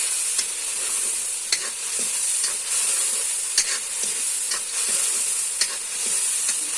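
Vegetables roast and sizzle in a pan as a spoon stirs them, a steady bright frying hiss broken by regular scraping clicks of the spoon against the pan.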